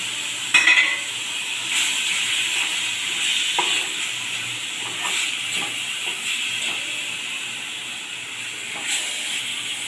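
Prawns fry in onion paste in a pan, giving a steady, close sizzling hiss throughout with a few faint clinks of stirring.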